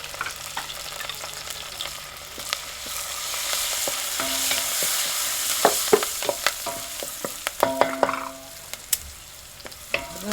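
Curry leaves and asafoetida sputtering in hot oil for a tempering, a crackling sizzle near at hand with scattered sharp pops and utensil clicks that grow busier toward the end, and nobody speaking.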